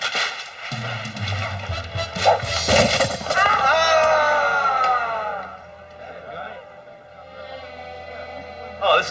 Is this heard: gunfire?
yes